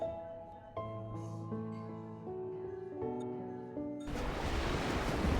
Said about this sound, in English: Waves roll in, and the water rises past our ankles.